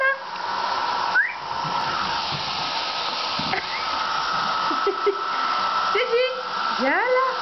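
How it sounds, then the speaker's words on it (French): A hair dryer blows with a steady, loud whooshing hiss throughout, with brief whistle-like sounds rising near the end. "le sèche-cheveux"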